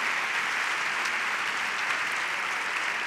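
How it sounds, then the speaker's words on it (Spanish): An audience at a Barcelona arts gala applauds for a pianist, with the clapping steady, even and moderately distant, filling the room without a break. "Un aplaudiment també per la Brisa."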